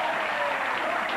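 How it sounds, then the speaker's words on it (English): Studio audience at the MTV game show Remote Control applauding steadily, a dense, even wash of clapping filling the whole moment with no break or voices. "They're applauding failure."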